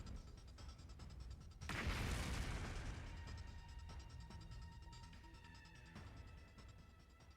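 A bomb goes off beside a cage in The Hundred Line: Last Defense Academy video game, a single quiet boom that decays into a long ringing, rumbling tail.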